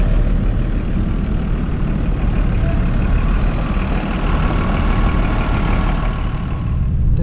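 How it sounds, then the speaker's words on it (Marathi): A vehicle pulls away from a hotel at night, starting a road trip toward Hadapsar and the Pune–Solapur highway to Akkalkot; a steady, loud engine and road rumble runs throughout without a break and with no talking. "तर गाडी जस्ट निघाली आता हॉटेलवरून"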